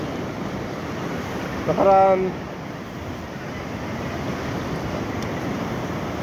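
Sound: ocean waves

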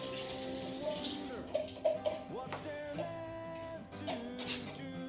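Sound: rinsing AeroPress coffee maker under tap water

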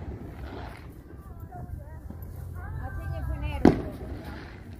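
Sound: fireworks at a party

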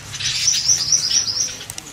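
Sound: golden-headed weaver birds chirping

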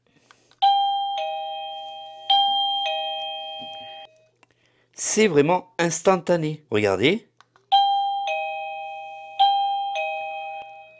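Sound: wireless doorbell chime

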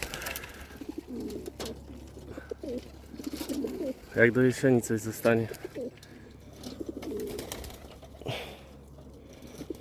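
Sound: pigeons cooing in a loft

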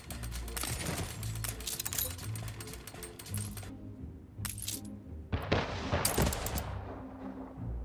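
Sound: explosion in a factory in the video game Anno 1800

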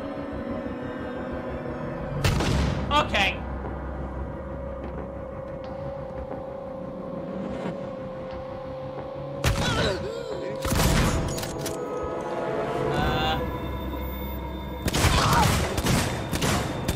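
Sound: gunfire in the video game Alien Isolation

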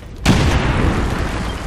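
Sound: explosive breaching charge going off in the video game XCOM 2

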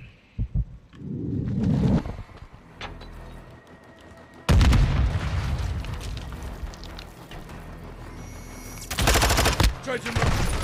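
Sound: gunfire from the video game Call of Duty MW2

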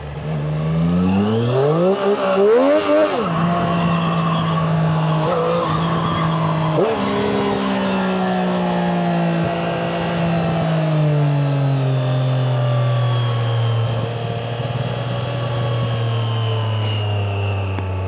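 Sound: 765 cc motorcycle engine running

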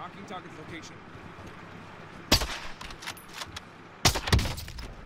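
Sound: guns firing by themselves in a shooter video game

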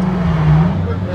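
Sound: cars starting up at a car show

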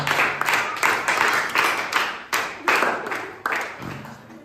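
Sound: loud clapping for Sakshi

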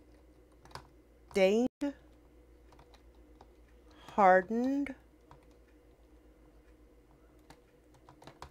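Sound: typing on a computer keyboard

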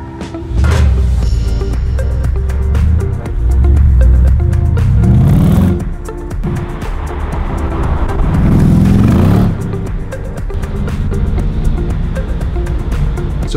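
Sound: Mercedes C63 Black Series engine rumble while driving

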